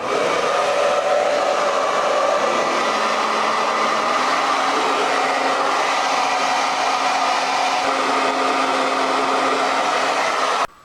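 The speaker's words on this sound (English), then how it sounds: "Take my blow dryer" A hair dryer on the cold setting blows with a steady, loud, close whooshing hum, its pitch shifting slightly midway, then cuts off abruptly at the end.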